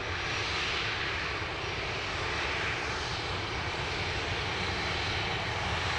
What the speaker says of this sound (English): plenty of aircraft taxiing by the mound